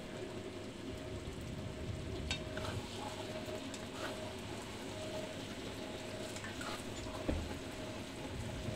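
A spoon stirs pork menudo sauce with potatoes and carrots in a hot pan, giving a dense, steady bubbling sizzle close up, with a few soft scrapes and one knock against the pan.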